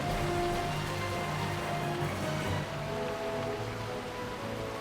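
Steady rain falls in the Final Fantasy 12 game world, a dense constant hiss over a low ambient music bed, even and unbroken with no voices.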